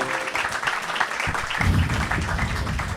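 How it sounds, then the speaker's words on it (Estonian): An audience at a comedy talk show applauds in a dense, steady wash of clapping that lasts the whole few seconds and swells slightly toward the end. "Jan Uuspõld, veel üks aplaus, daamid ja härrad"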